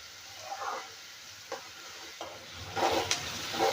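Chopped onion with salt sautéing in a pan for a bitter gourd curry: a quiet, soft sizzle punctuated by a few scraping stirs of a spoon, growing a bit busier toward the end, with no talking.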